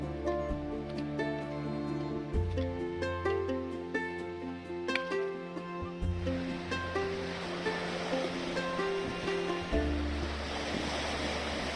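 Sea surf washing ashore on Elba island at sunset, a steady wash of waves throughout, mixed with steady tonal sounds.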